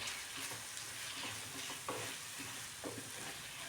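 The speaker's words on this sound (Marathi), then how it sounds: "थोडीशी कोथिंबीर टाकून घेऊया बारीक चिरलेली आणि परत मिक्स करून घेऊ" Leftover chapati snack with finely chopped coriander being stirred in a pan, a steady soft scraping and faint sizzle with a couple of light clinks from the spoon, continuous and close.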